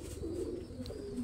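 Pigeons in a breeding loft give soft, low, continuous cooing, faint throughout with no talk.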